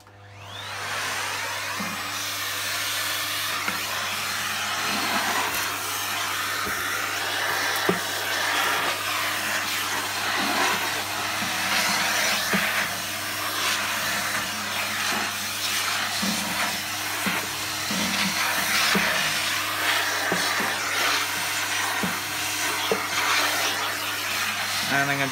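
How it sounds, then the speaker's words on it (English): A Miele vacuum cleaner runs steadily throughout, dusting out the inside of a 1961 BYLOC table vacuum with a continuous broadband whoosh and motor hum, its airflow shifting slightly as the nozzle moves. "let's get my Miele and dust it out"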